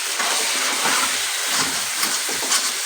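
Masala and spices fry for mutton kosha with onion, tomato, chilli and cumin in the pan, giving a steady, close hiss of sizzling oil with soft crackling bursts and no talk.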